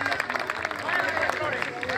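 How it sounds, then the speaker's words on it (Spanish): An audience at a rural women's tribute event applauds, a steady wash of clapping and crowd murmur, moderately loud with voices mixed in. "Manuelito Flores, un aplauso"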